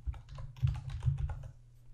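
A computer keyboard typed on in a quick burst of soft, close keystrokes over a low hum, tapering off at the end.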